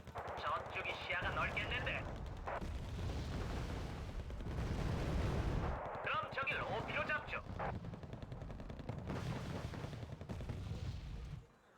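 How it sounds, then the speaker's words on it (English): Mortar artillery in the strategy game Wargame: Red Dragon booms and rumbles in repeated heavy volleys over a low battlefield roar, with a crackle of smaller fire between them. A voice talks over the fighting. "Fire in there with the mortars."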